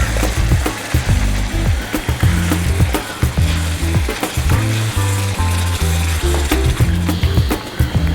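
Masala paste poured into a hot pan for drumstick curry, with turmeric added, gives a dense, continuous sizzle throughout, accompanied by steady rhythmic background music.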